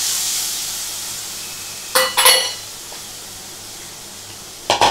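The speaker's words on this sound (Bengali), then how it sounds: "এবার দিয়ে দেবো জল, গ্যাসটা বাড়িয়ে দিলাম।" Steady sizzling hiss of curry masala cooking in a pan for paneer kofta curry, with a couple of sharp spattering bursts as water is added, then steady simmering.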